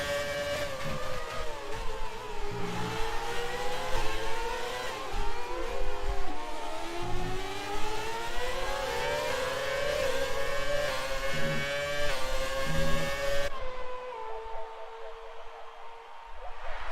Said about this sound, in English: Ali only 2/10 behind Nut, coming onto the front straight for the final lap